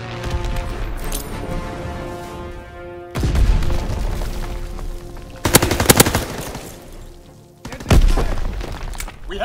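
Video game gunfire: rapid machine-gun bursts with loud booming impacts and shattering, some quieter stretches between, heavy and close throughout with no speech.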